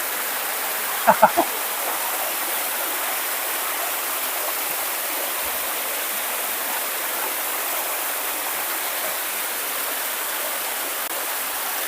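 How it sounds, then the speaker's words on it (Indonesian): The Klebut river flows steadily, a continuous broadband rush of water close by, with a few brief knocks near the start and no other sounds over the stream. "Ini aliran air lebut. Sungai Klebut."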